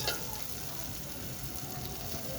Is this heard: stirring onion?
yes